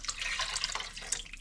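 Water pours into a cooking pot set up for stock with carrots and potatoes, a light trickling splash with a few brighter drips, close and fairly quiet, without speech.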